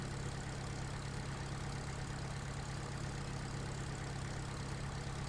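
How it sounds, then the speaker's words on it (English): A tractor's naturally aspirated four-cylinder diesel idles in the Farming Simulator 2013 game, a steady, even low rumble that holds unchanged throughout with no voices. "I just like the way that these aspirated 4-cylinder diesels sound"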